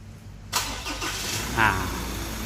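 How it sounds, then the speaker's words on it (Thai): A Ford Ranger pickup's turbo diesel engine, fitted with a replacement modified turbo, turns over and starts up abruptly, then runs with a rough, steady idle and a brief whining note. "ตอนนี้เราได้ทำการสตาร์ทตัวเครื่องยนต์ขึ้นมาแล้วเนาะ"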